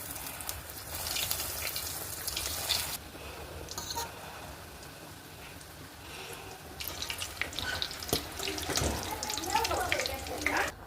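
Tuna cutlet balls sizzling and crackling in hot oil, a steady loud frying hiss that swells again as more pieces go in, with clatter and stirring throughout.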